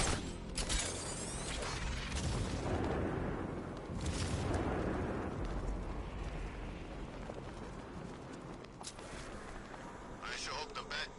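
An explosion in the video game Batman Arkham Knight, a loud rumbling blast with debris and mechanical clatter that swells and decays over several seconds, with a further crash near the end.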